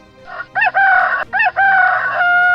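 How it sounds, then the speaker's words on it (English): A rooster crows close and loud in a single full cock-a-doodle-doo, with a stuttering start and a long held final note, no other sounds around it. "A rooster."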